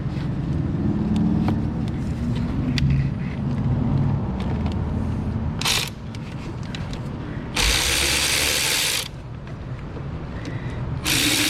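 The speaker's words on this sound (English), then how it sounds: "got my electric ratchet with a 6-inch extension and a deep 10mm socket" Electric ratchet fitted with a 6-inch extension and a deep 10mm socket, whirring in short bursts between clicks and handling noises, then one longer run near the end of the clip, close and clear.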